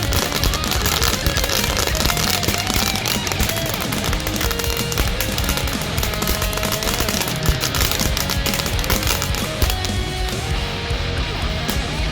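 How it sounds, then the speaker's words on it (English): An entire brick of firecrackers pops and crackles loudly without pause, the rapid bangs blurring into one long roar before thinning slightly near the end. "this is an entire brick of firecrackers. This is how you get rid of them."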